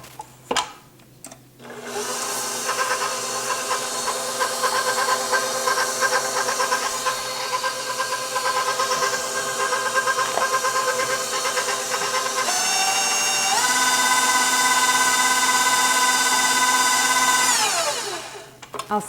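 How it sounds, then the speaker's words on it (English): An electric hand mixer whirs steadily while beating a root beer cream cookie filling in a bowl, a loud continuous motor drone with a shift in pitch partway through before it winds down near the end. "Now I'll mix this until it becomes creamy."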